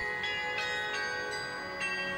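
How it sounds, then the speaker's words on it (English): Clarion bells ring from the Cloth Hall belfry in Herentals. Several clear, resonant strikes arrive in a slow sequence and ring on with sustained tones, heard from a moderate distance. "a ring of clarion bells was hung there, and since then they've rung out over the town on the hour"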